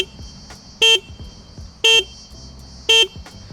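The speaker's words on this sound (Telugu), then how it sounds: "చాలా లౌడ్ హార్న్ ప్రొవైడ్ చేస్తున్నారు" A 2026 Honda CB350 RS motorcycle's loud horn sounds three times in short, evenly spaced, close blasts over a quiet idling background.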